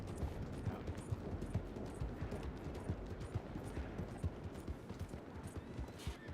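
Hooves of an Arabian horse in Red Dead Redemption 2, a video game: a steady, fairly quiet clip-clop gallop, rhythmic and continuous, with faint background noise and no talking.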